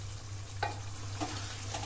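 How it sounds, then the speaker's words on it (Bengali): Chicken and onions fry on a medium flame, a steady close sizzle with a few soft scraping stirs and no voices. "পেঁয়াজ সহ চিকেন আমি 5 মিনিট মিডিয়াম ফ্লেমে ফ্রাই করে দেব।"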